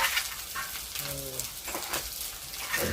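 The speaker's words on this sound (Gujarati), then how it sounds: "ચાલો તો હવે પૌવા પૌવા નાખી દીધા." Poha (flattened rice) goes into a sizzling pan for batata poha, giving a soft, close frying hiss with faint scraping over about three seconds.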